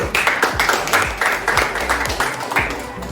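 Primary school class claps together in a classroom, sharp rhythmic group claps landing in a steady repeated beat, close and fairly loud.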